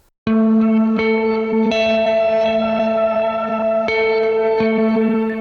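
Electric guitar plays a four-bar loop of octave notes, each struck attack ringing out clearly with effects-laden reverb and echo, several distinct plucks across a continuous sustained tone.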